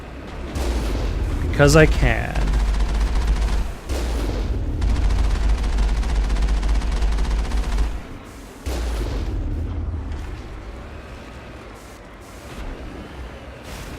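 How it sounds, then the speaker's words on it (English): Repeated heavy booms from the Mako tank's cannon in Mass Effect, loud, broadband blasts in quick succession with a low rumbling engine bed, someone talking over and between the shots. "I'm just going to blow them up with the Mako's cannon."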